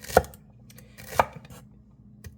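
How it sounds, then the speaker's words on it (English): A knife slicing seeded peppers thin on a cutting board, two sharp distinct chops about a second apart and a fainter third tap, close and clear with quiet gaps between. "So we're just going to cut this kind of thin"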